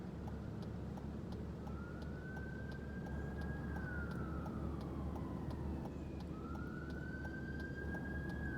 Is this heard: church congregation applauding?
no